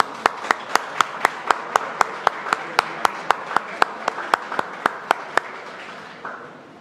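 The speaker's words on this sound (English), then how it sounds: "We would like to give her a round of applause and thank you for being here." A small group gives a slow, steady round of applause for the Lieutenant Governor at an outdoor urban pavilion event in Regent Park, about twenty evenly spaced sharp claps that fade out near the end.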